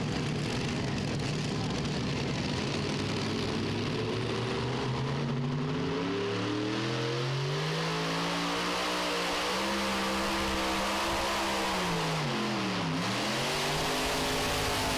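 Super modified pulling tractor roaring down the track in a Pro Pulling League tractor pull, a loud sustained engine howl whose pitch climbs, wavers and dips sharply near the end as the throttle is worked.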